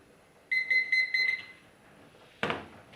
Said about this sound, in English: Timer is about to go off.